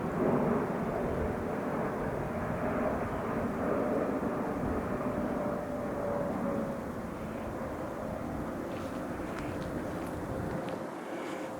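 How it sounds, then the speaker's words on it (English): A low-flying airplane circling near Philadelphia Airport makes a continuous broad engine drone, fairly loud and steady throughout, easing off slightly in the later seconds. "The planes just have to keep circling."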